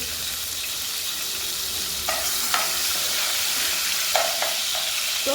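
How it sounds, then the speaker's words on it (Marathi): Finely chopped tomato with a little salt frying in oil in a pan, a steady low sizzle with a few clinking spoon stirs against the vessel. "पहिलं टोमॅटो चांगलं तेलात तळून घेते"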